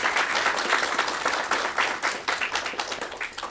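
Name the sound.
audience applause for mentors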